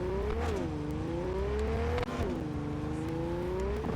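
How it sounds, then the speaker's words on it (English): A combustion car engine in Cyberpunk 2077 revs up twice, its pitch climbing and then settling into a steady drone. The engine is moderately loud and near, with no talk over it. "It is funny in this game that just about every car seems to have a regular engine."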